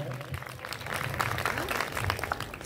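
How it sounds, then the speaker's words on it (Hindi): Audience applause at a stage programme for children, a steady wash of many hands clapping at moderate level through the whole stretch, with a voice murmuring faintly underneath. "ताली हो जाए।"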